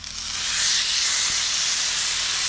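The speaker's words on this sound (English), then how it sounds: "Now, we're going to put the ribeye on there. Listen to this sizzle." Steady, loud sizzling of a ribeye steak on a hot grill, a broad hiss that swells in the first second and then holds constant.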